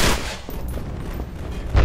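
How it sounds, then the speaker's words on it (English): Gunfire in the video game E.Y.E. during co-op play, a dense burst of shots with a heavier low thump near the end, close and loud with no talk over it. "I hear a lot of gunshots near you."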